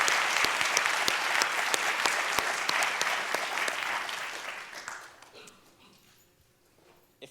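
Conference audience applauding a speaker, dense clapping from a crowd that is strong at first, then thins out and fades to scattered claps and near quiet by the end.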